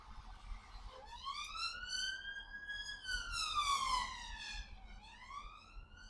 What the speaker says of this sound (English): Ambulance going past, sorry about that.